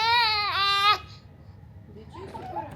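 A baby cries loudly in sharp, wavering wails for about a second, then quieter fussy whimpers follow after a pause, heard indoors during a day out in Abu Dhabi.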